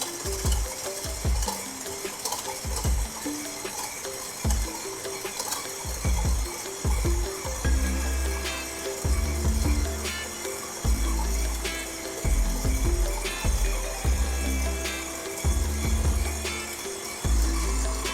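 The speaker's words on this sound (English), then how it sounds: "All right, so our sugar and the butter are in the mixer. We're paddling it, which is, again, creaming it." A stand mixer creaming butter and sugar with its paddle gives a steady whirring drone under repeated rhythmic knocks and scraping, close and moderately loud, no voices.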